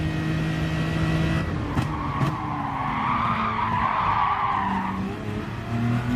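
Tyres skid and squeal in Gran Turismo Sport racing, a long sliding screech that bends in pitch over a steady engine drone, loud and close throughout with no talking.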